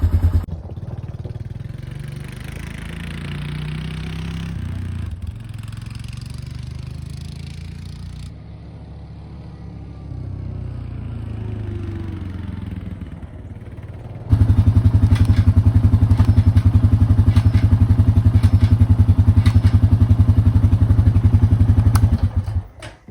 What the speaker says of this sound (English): gonna go ahead and take it for a ride so we can test it.